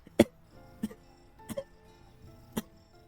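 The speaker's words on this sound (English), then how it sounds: "GRD28 starts coughing violently" A character in the video game GFL2 coughs violently: four sharp, separate bursts spread at uneven intervals, each a rough, breathy hack standing out over faint background game music.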